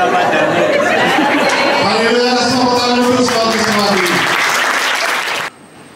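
Loud church congregation applause at a mission-trip service at GBIS Karang Anyar in Central Java, dense clapping mixed with chatter and a rising voice over it, then cutting off abruptly near the end.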